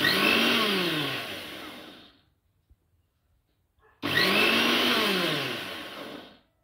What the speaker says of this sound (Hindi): टिके दरदर खंड करिकिरी ताकू ग्राइंड करिबा। पल्स मोड रे करिया को पड़िबो।